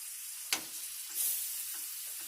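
Shrimp for a mango lime dish sizzle steadily in a pan, a continuous fry hiss with a sharp stir or scrape near the start and a brief swell of sizzle about halfway through.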